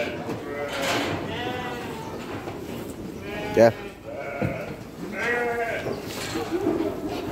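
Sheep and lambs bleat repeatedly while feeding at a livestock fattening farm, several loud calls close by with a steady murmur of animals behind, and someone speaks briefly over them.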